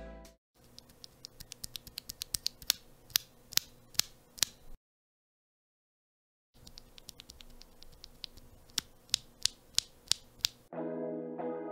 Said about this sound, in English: let me demonstrate the drastic sound difference of stock MX Reds compared to MX Reds lubed